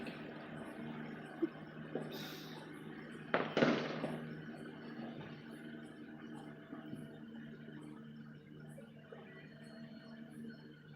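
Fireworks crackle and pop outdoors, with one sharper burst standing out among scattered distant bangs over a steady background hiss.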